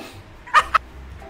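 The Magic Cat creature in a video game gives two short meows, a longer one followed by a brief sharper one, over a quiet background.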